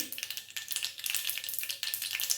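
Okra sizzles and crackles steadily as it is stir-fried in a pan, with close, continuous frying hiss and short bursts from stirring.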